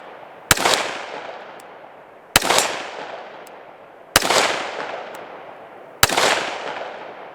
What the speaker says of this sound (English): Let's shoot the red plate now.